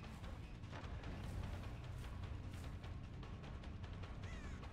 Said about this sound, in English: I thought that was a person, but it wasn't. It was a bird.